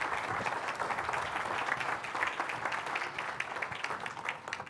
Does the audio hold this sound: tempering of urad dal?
no